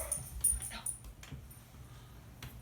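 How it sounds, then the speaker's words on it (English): A dog gives faint, short barks and whimpers indoors, brief yips scattered over a low background hum. "no barking, seriously, dude."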